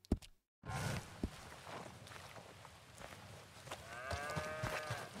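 A cow moos on a farm in Red Dead Redemption 2, a drawn-out low call near the end, with footsteps and farmyard bustle around it.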